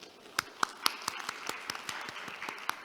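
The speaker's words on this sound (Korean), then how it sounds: "박수로 윤 교수님을 맞이해 주십시오" Scattered, sparse claps ring out from an audience at a Korean conference session on Arctic shipping routes, welcoming the session chair: a handful of distinct hand claps at an uneven pace, fairly faint and thinning throughout.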